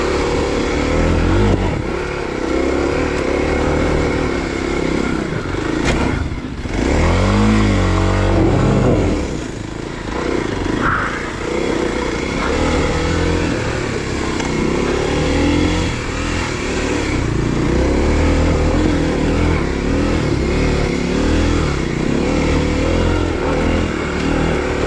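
A Kawasaki KLX 250 dual sport motorcycle rides single track in New Mexico, its mid-pitched engine droning loud and close throughout with repeated revs and throttle swells and a brief dip partway through.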